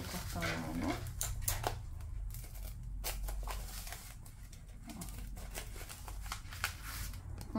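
Scissors snip through fabric being cut for a simple homemade wine holder, with soft, closely spaced cuts and rustles over low background noise and cooing pigeons.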